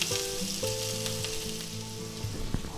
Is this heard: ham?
yes